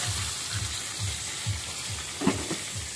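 Fish frying in a pan during a rainy day on a farm, a steady low sizzle and crackle with soft rhythmic bubbling pulses, close and moderate in level, with one brief sharper clatter near the end.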